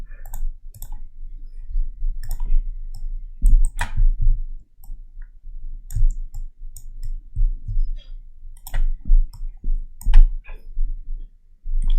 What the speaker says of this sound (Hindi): ये मैं क्लिक कर रहा हूँ, बस मैं क्लिक करते जा रहा हूँ।